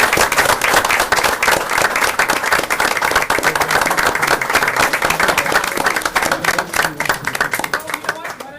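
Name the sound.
round of applause for Paul Harris honorees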